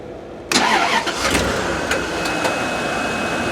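An engine on a Bentley Brooklands or Rolls-Royce Corniche cranks and catches abruptly, then settles into a steady, loud idle up close.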